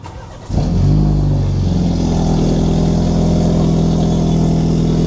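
A BMW Z4 cranks and fires up loudly and close by, then settles into a strong, steady idle with a slight rev. The car was originally white and has been wrapped orange.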